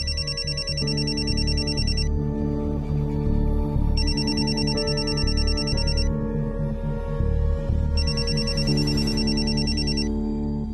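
A telephone rings in repeated bursts, loud and close, over a steady tonal hum of background music.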